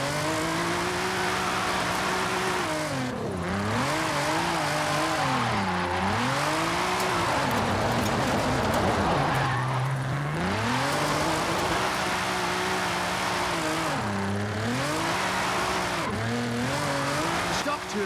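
Nissan GT-R with its VR38 engine drifting in Forza Horizon 5, a loud, continuous engine note rising and falling through repeated revs and shifts, with tire squeal mixed in and talk running over it throughout.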